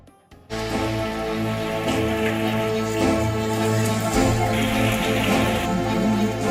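Heavy monsoon rain pours steadily and loudly, a dense constant roar with splattering drops, starting abruptly and continuing without a break.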